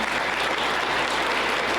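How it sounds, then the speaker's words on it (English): Steady audience applause fills the room at a home design awards ceremony, a dense, even wash of clapping that stays loud throughout with no voices over it. "Let's get a round of applause."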